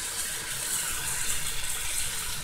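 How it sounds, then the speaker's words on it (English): Soy sauce hits a hot pan of mushrooms with a steady, loud hissing sizzle that holds evenly throughout, with no voices over it. "I'm just going to use soy sauce to deglaze the pan with"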